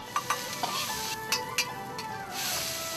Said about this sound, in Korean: 고기를 따로 볶아서 익히고